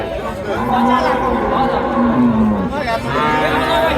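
A dairy cow moos at a busy village cattle market, a long drawn-out low call lasting several seconds, loud and close, with crowd chatter and voices in the background.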